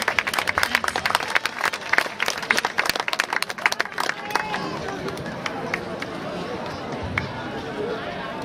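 An audience claps in brisk, dense applause for several seconds, then it fades into a steady murmur of crowd chatter.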